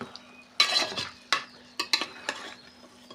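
Curry being stir-fried (koshano) in a pan: a spatula scrapes and clanks against the metal in irregular bursts of stirring, close and fairly clear, with a faint sizzle underneath and no talk.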